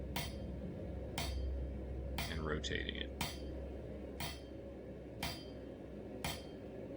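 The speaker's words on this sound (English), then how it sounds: "right now I'm just half face hammer blows, pulling it back gradually" Half-face hammer blows forge a rebar snake's tail on an anvil, about seven sharp ringing metallic strikes at a steady rhythm, close and loud, with someone talking briefly over them.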